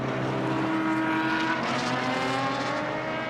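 Racing cars roar steadily around a track behind a safety car, a dense continuous engine drone with no speech.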